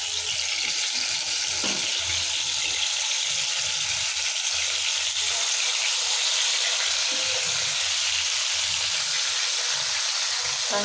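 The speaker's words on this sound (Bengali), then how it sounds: "দেখেন বোয়াল মাছটা এখন ভাজি করতেছি আমি" Boal fish frying in soybean oil in a pan, a dense, steady crackling sizzle that fills the scene from start to finish, close and loud, with no voices over it.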